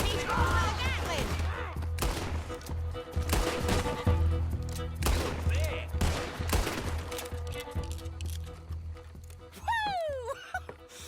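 A Gatling gun in Red Dead Redemption 2 fires in repeated rapid bursts amid a chaotic gunfight, with horse hooves, shouting and talking mixed throughout and a whooping voice near the end.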